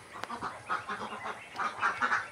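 Young ducklings give a run of quick, fairly faint peeping and chirping calls in short clustered bursts, with no talking over them.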